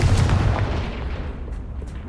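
Spell blasts in the Hogwarts Legacy video game boom out as a loud, rumbling burst that fades over about two seconds, with no talking.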